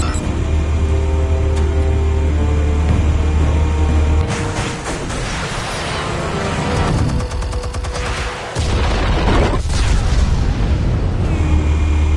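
Explosives detonating in the Batman Telltale video game, a loud sustained rumble of blasts with crackling bursts layered over a steady low drone, one sharp dip before the roar resumes.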